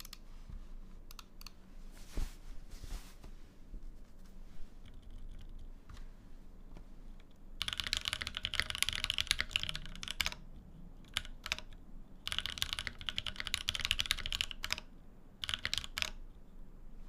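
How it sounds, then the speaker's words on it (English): Crisp mouse clicks heard at keyboard level beside a custom Tofu 2.0 keyboard build, scattered taps at first, then dense rapid bursts of clicking and clacking, close and fairly quiet with no voices. "This is how loud the mouse clicks are at keyboard level."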